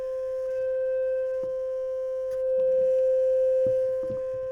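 A steady sine wave test tone from a wave generator, played through a restored Elpico AC55 tube amplifier, holds one pitch throughout with faint clicks and low hum underneath.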